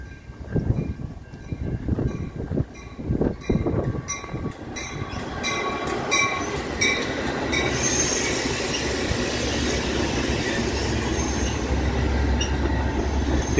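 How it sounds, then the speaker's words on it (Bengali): A two-storey diesel train pulls into Prospect Heights station, starting with rhythmic clacking of wheels over rail joints, then settling into a loud, steady rumble with squealing wheels as it rolls in close by. "ট্রেনটি ঢুকছে।"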